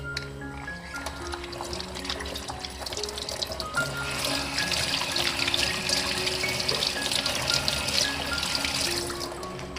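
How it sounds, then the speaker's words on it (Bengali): Hands are washed under a running tap in a village kitchen, the water splashing and trickling steadily and close by for about ten seconds, growing a little louder midway, with no talking. "হাতটা ধুয়ে নিই।"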